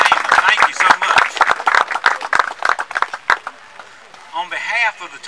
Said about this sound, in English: continue the applause for our drummers that provided our opening